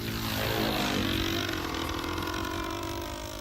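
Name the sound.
model airplane flying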